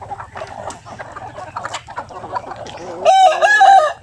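Backyard chickens cluck and murmur steadily, then a rooster lets out a loud, close crow near the end, with feeding time coming.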